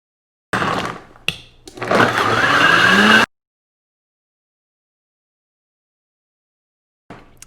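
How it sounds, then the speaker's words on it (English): A Vitamix blender whirs loudly through a matcha banana smoothie with ice, starting with choppy bursts as the ice catches and then settling into a steady high-speed roar before cutting off abruptly, followed by silence. "If you blend it too long in the Vitamix, it'll actually heat up and make a soup"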